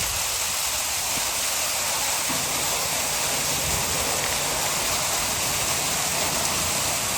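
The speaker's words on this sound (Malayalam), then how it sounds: "അവിടുന്ന് ആ വെള്ളം ഇതിലെ ഇങ്ങനെ ഒഴുകി ഇങ്ങോട്ടാ പോണം" Water rushes steadily through a canal lock as it is opened, a loud, continuous broadband roar with no pauses and no voices.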